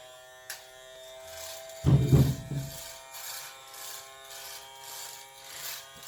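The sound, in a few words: toy Miele vacuum cleaner running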